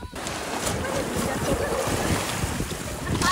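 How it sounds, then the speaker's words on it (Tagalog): Rough sea waves churn and splash steadily off Fortune Island, heavy wind buffeting the microphone, loud and close throughout. "medyo malakas yung alon"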